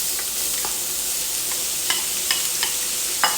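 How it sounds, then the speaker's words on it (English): Onions frying in oil with cumin for a Goan-style tempeh curry, a steady close sizzle with a few sharp crackles and stirring scrapes, no talk. "oil, cumin, onions, and we're going to cook it for a bit"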